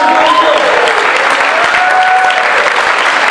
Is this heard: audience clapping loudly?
yes